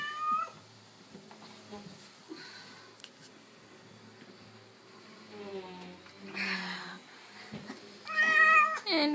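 A wet black cat meows repeatedly after its bath, plaintive cries coming in bursts close by, with quiet gaps between and a person speaking softly at times.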